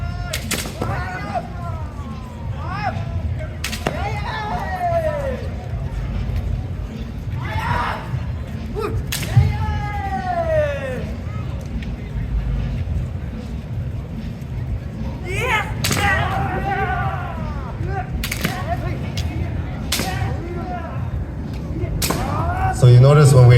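Kendo sparring at an outdoor Tanabata festival in Los Angeles brings sharp bamboo sword cracks and slaps scattered irregularly, loud and close, mixed with fighters' shouts and a steady crowd murmur.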